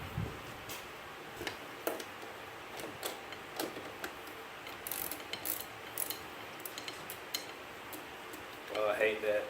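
Socket ratchet clicking in repeated short bursts while tightening a bolt on a Cub Cadet PTO drive, close and fairly quiet in a garage, with brief pauses between runs of sharp pawl ticks.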